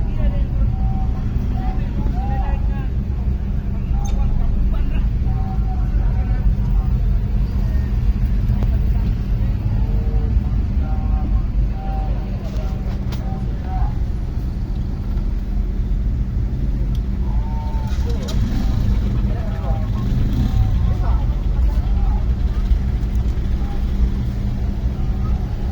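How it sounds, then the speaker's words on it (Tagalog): Dense road traffic near Taytayan, with a steady low rumble of cars, buses and trucks idling and crawling close by, continuous and loud throughout with faint talk mixed in. "Ay, grabe traffic."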